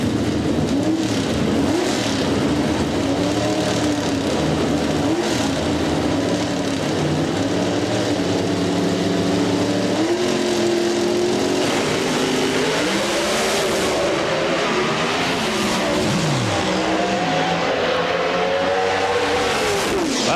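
NHRA drag racing cars roar down the strip at the 1999 Pennzoil Nationals in Richmond, a loud, continuous engine blast with rising revs that fills the whole stretch without a break.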